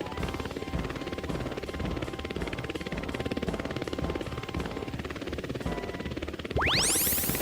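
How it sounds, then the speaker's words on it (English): Orange drone in flight, a steady dense rotor whine and buzz that holds loud throughout, with a brief sweeping rise near the end. "orange color drone"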